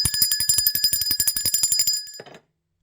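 A bell is rung rapidly about twenty times in a steady, ringing rhythm, close and loud with sustained tonal overtones, stopping abruptly near two seconds, followed by a brief soft rustle and then silence.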